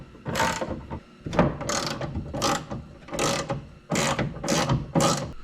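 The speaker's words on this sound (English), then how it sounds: "Back with the 10 mil socket, we'll be able to come in here and get off the last 2 bolts." A hand ratchet with a 10 mm socket loosening the window regulator bolts inside the door of a 2004 Dodge Ram 1500, making six or seven loud, rapid clicking bursts in a steady back-and-forth rhythm, close up and with no talk.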